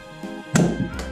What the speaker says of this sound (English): this is a powerful toy gun. Throwing a soft bullet. Fire.